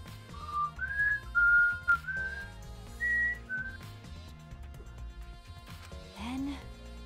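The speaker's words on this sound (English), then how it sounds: "I know you were whistling, but that's it." Whistling from the Danganronpa V3: Killing Harmony video game, a series of short melodic whistled notes over soft background music, followed by a brief voice near the end.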